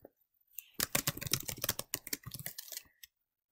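Computer keyboard typing while entering spreadsheet data, a quick close burst of clustered key clicks lasting about two seconds with a short gap midway, then stopping.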